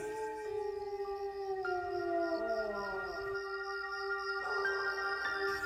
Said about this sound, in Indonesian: Sesekali ada suara lolongan anjing di malam hari.